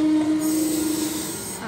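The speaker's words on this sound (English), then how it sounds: "We have an Oscar arriving at platform 1" A four-car Sydney Trains Oscar H-set arrives at a railway platform, its wheels letting out a loud sustained squeal that tapers off over a steady rolling rumble.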